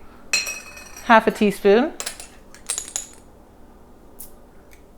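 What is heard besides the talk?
spices added to a mortar and pestle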